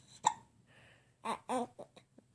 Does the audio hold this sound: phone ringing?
no